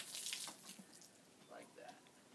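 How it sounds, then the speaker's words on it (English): Water rinses bicycle wheels in a steady, faint hissing spray, with a few brief splashy changes as the stream moves over the wheel. "Finish up with rinsing the wheels"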